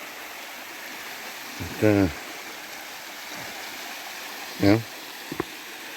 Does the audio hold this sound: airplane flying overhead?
no